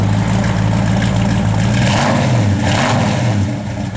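A 1964 Ford Falcon Futura engine runs steadily up close, a continuous low rumble with a slight rise and fall in pitch partway through, no voices over it.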